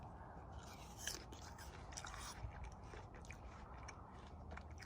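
Close, crisp bites and crunchy chewing of a red-fleshed apple, with a sharp crunch near the start followed by steady wet mastication, quiet and without talk.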